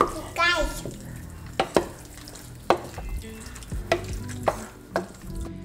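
Garlic pepper beef with mushrooms gets stirred in a pan, a soft sizzle broken by a spoon scraping and knocking the pan at irregular intervals, close and fairly quiet.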